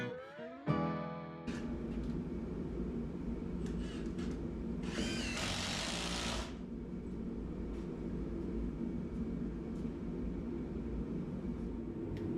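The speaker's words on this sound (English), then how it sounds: "I'm securing the stair treads from the backside with extra long screws just to make it extra strong." A power drill drives extra-long screws through the back of wooden stair treads, running in a sustained whirring stretch with a short higher-pitched burst, fairly quiet and with no talk.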